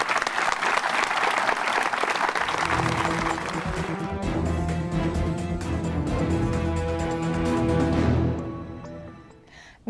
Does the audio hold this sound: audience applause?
yes